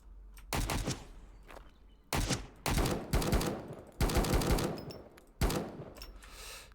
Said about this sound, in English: Whoa, I'm getting shot at.